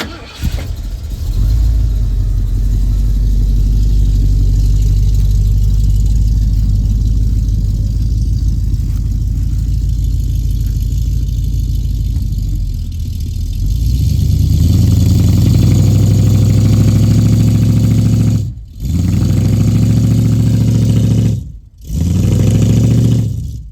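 Ford 460 V8 running and idling: a loud, steady low rumble close by that holds for most of the time, firming up partway through, with two brief dips where it cuts out momentarily.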